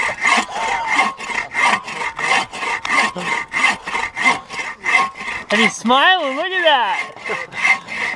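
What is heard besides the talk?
sawing firewood by hand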